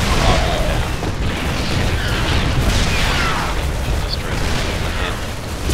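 Siege tanks pound an enemy base in a Terran versus Terran StarCraft match, a steady barrage of booming shell impacts and mechanical clatter packed tightly together, loud and continuous.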